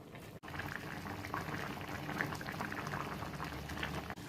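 A Kerala-style fish curry with sardines and raw mango bubbles in a pot, giving a soft, steady simmering crackle that stays fairly faint and even throughout, with no talking.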